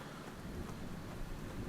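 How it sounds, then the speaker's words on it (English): Steady rain in The Infected survival video game hisses loud and unbroken, with a low rumbling undertone like distant thunder and no talking. "There's that rain I was telling you about."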